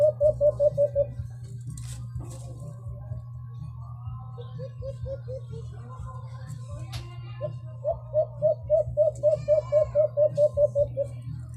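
An alimokon dove calls in a forest with rapid runs of short, evenly spaced hooting notes in three bursts, the last one longest, over a constant low hum.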